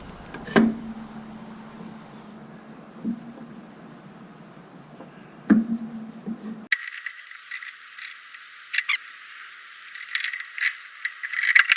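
Metallic clicks and light rattling from a Harley-Davidson touring motorcycle's rear brake caliper being worked off its mount after the pistons are pushed back; a few sharp close knocks with scraping between them.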